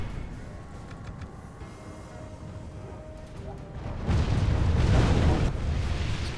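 Missiles and explosions slam into castle walls in the medieval battle game Third Age: Divide & Conquer, a low rumbling din of battle that swells into a loud, sustained burst of impacts in the second half.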